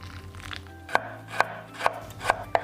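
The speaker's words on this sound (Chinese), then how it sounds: "切一些姜末、蒜末" A knife chops ginger and garlic on a cutting board in a home kitchen, giving five sharp, evenly spaced thuds over a quiet background.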